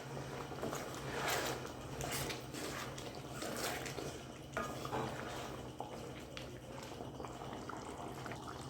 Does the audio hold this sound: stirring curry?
yes